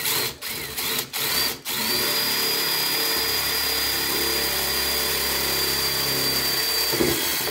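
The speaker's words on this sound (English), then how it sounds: "now that we've got that first set small hole drill, we're going to move up to a little bit bigger" A handheld power drill bores a larger hole while fitting a T-bone exo cage to a Kaiju, opening with a few short bursts before settling into a loud, steady whine.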